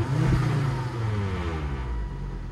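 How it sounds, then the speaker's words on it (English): A 2001 Volvo V70 turbo AWD wagon engine runs and revs, a steady mid-pitched drone that swells at the start and holds without talk. "start it up. Rev it."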